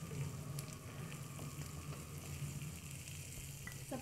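Onion with capsicum, chopped carrot and cauliflower frying in a pan for Indian vegetable pulao, a steady close sizzle with soft stirring clatter throughout, no voices.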